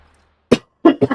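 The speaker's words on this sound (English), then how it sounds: "My cough isn't getting better" Four short, abrupt coughs, one sharp bark then a quick cluster of three close together, near and fairly loud against otherwise quiet surroundings.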